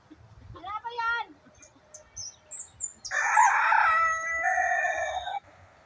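A rooster crows loudly and nearby, preceded by chirps and clucks of chickens, with a long drawn-out call filling the second half.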